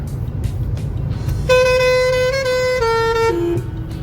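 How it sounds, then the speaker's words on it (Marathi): A truck horn honks from behind in slow town traffic on a rainy-season road trip through Karad, a long, steady, loud multi-tone blast sounding over the rumble of the vehicle's road noise. "हा मागून ट्रक बोंबलत आहे"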